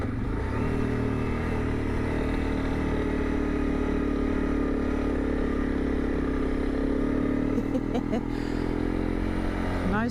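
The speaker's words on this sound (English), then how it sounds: "Nice sand riding with this top heavy bike with full tire pressure." A top-heavy motorcycle with full tire pressure rides over sand, giving a steady, loud engine drone that holds its pitch throughout, with a brief rattle and clatter near the end.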